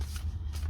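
A deck of cards is shuffled briefly and softly, a quick papery riffle over a low steady hum, with no one talking.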